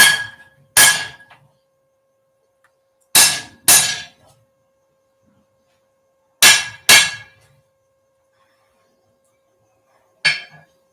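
A hammer strikes metal in sharp ringing clangs, mostly paired double blows spaced several seconds apart, loud and close with quiet gaps between, then a single final hit.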